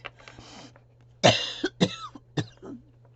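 A person coughs in a short fit of three or four harsh, close coughs, with a quieter throaty sound before and after.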